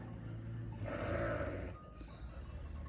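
A young sheep bleats once, a wavering, drawn-out cry in the middle, set against a steady low farm rumble and background hum at a moderate distance.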